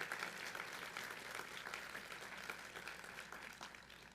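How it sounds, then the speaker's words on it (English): Graduates and guests at the Delaware Valley University commencement clap in sustained applause, a steady wash of many hands that sounds faint and distant. "Graduates, give a round of applause to everyone who has gotten you to this stage today."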